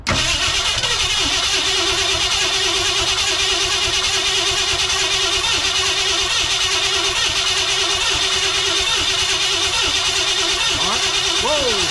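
A 1968 Ford F100 truck engine, freshly fitted with a four-barrel carburetor and new timing chain, cranks and fires into a steady loud running drone, with people talking over it.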